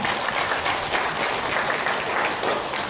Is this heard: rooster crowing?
no